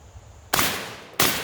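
Two sharp, loud shotgun blasts from a Charles Daly Model 601 20 gauge semi-automatic firing Winchester shells, spaced about two-thirds of a second apart, each ringing out briefly.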